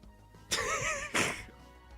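A video game sheep bleats twice in quick succession, two short, close, wavering cries over a quiet background.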